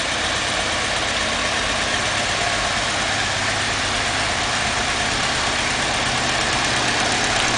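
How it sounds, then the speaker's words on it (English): A 1977 Alfa Romeo Spider S2 engine idles steadily and close by, a continuous even rumble with no talk over it. "I'll just go around and switch the engine off."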